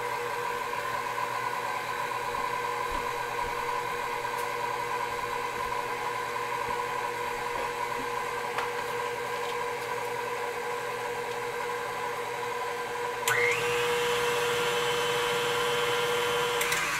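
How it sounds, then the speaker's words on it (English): KitchenAid stand mixer with a dough hook working through meatloaf mixture, a steady whirring motor hum with a slight grinding texture, constant and close, shifting pitch briefly near the end. "If you're gonna use the KitchenAid mixer, it's important you use this hook."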